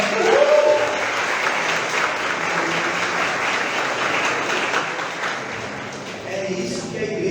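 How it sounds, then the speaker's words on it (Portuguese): Church congregation breaking into sustained applause, a thick, steady roar of clapping with some cheering voices mixed in, easing slightly near the end. "Salva de palmas para ela."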